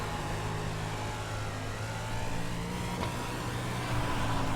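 Steady, dense engine drone from a 305 sprint car lapping a dirt oval in iRacing, holding a continuous loud roar throughout with slight swells in pitch, no voices.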